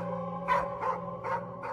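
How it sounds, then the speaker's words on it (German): A dog barks heavily outdoors, four loud rhythmic barks in quick succession, fairly close. "seinen Hund draußen heftig bellen"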